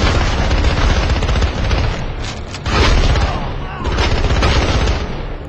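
Continuous loud combat from the video game SpyHunter Nowhere To Run, with heavy booming grenade explosions and gunfire layered over dense rumbling action, surging louder around the middle and again toward the end, with no clear talk.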